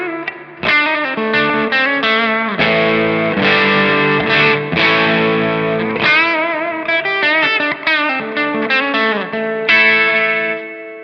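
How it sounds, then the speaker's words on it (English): An electric guitar plays through an Emprize Harrier amp with a real spring reverb tank, its driven, slightly distorted notes and chords ringing out loud and close with a lush reverb tail, with no talking. "when you get an amp like this with a real spring tank in the back, there's just something magic about it"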